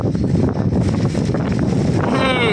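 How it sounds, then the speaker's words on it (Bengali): Steady gusty wind buffets the microphone with a dense wash of noise, wind and rain blowing hard outdoors where people are fishing. "এমন হাওয়ার সাথে সাথে বৃষ্টি"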